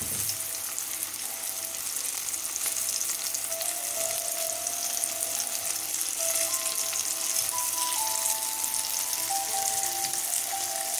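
Marinated tandoori fish fries in a hot pan, sizzling loudly and steadily up close for the whole stretch, with no voices.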